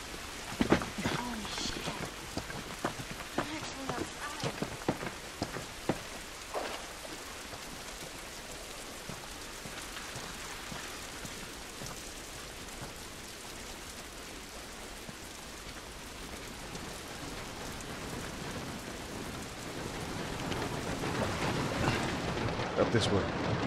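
Steady rain pours down in The Last of Us game, a dense continuous hiss with scattered patters and thumps, rising slightly toward the end, with a voice speaking briefly over it.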